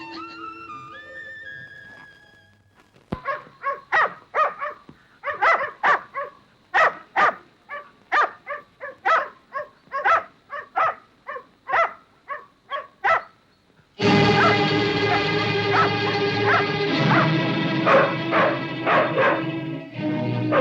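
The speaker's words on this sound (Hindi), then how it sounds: "इसीलिए मेरे कुत्ते बड़े जोर से भौंक रहे थे।" Dogs bark loudly and repeatedly in a steady rhythm of sharp, close barks, then a burst of busy dramatic music swells in beneath the continuing barking.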